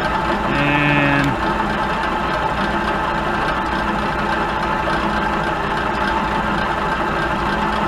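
A milling machine spindle fitted with a right-angle milling attachment runs at about 140 RPM, giving a steady, fairly loud mechanical hum. A brief tonal whine sounds near the start.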